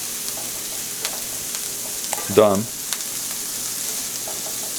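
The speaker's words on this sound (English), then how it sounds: "smell some onions sizzling for a little bit longer" Onions frying in a pan during a duck cook, with a steady low sizzle throughout and a brief louder stir or clatter near the middle, plus a short spoken word.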